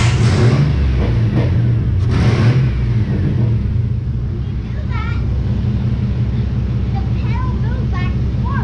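A Chevy car engine runs loud and close, revving hard at the start and then settling into a rough, steady run while people talk over it.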